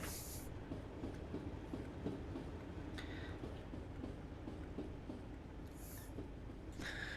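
Heavy rumbling of a passing British Rail Class 60 locomotive in East Anglia, with rhythmic clickety-clack of wheels over rail joints and occasional high squeals, steady and continuous.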